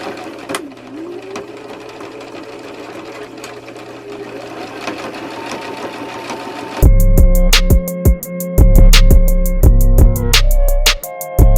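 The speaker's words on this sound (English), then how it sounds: "I'm already sewing right now. I'm working on the pleat for the back as well." A sewing machine stitches a back pleat on dress pants, starting after a quiet stretch of room noise and then running loudly in fast rhythmic bursts with brief pauses.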